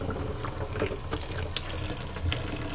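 Water runs from a camper sink faucet during winterizing, a close, splashy gurgle with small drips and irregular spatters against the basin, continuing steadily throughout without voices.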